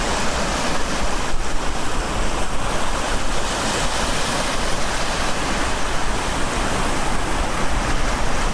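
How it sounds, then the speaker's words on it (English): Heavy ocean surf crashes and pushes inland along a coast during a storm, a continuous loud roar of breaking waves mixed with wind buffeting the microphone, with no voices. "The relentless waves keep coming, crashing and pushing inland, turning the coast into a powerful display of nature's force."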